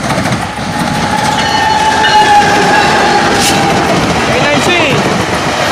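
A southbound train passes close by, with loud rumbling and rhythmic clickety-clack from the wheels on the rails and a brief horn-like tone. A voice is heard under the passing train.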